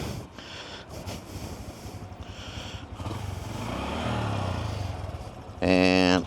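Honda Trail 125 motorcycle started by kick and running, a steady close engine drone under wind buffeting, with a rising rev toward the end.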